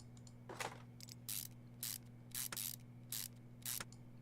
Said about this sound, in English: And we bolt those ones down.